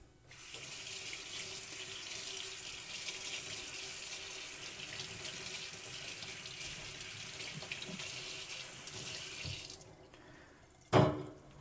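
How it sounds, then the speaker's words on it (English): A utensil is rinsed under a running kitchen tap, a steady close hiss of flowing water for about ten seconds that cuts off, followed by a brief knock. "I'm just gonna go rinse this and it's clean."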